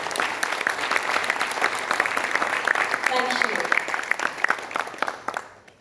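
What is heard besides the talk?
audience applause at ministerial event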